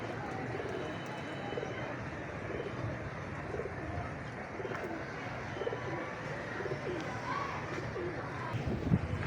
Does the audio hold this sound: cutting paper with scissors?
no